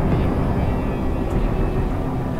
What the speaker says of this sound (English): There's the jet.